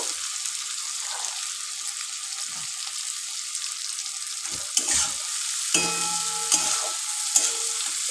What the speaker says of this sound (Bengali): এবার কাঁচা লঙ্কাটা দিয়ে দেব এটাকে একটু নাড়ব